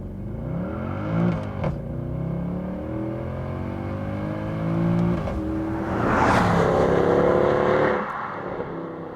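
A Mercedes-Benz C63 AMG Coupe engine revs hard, its deep V8 note climbing and falling through several throttle blips before a loud rising surge near the end, heard close with no talking.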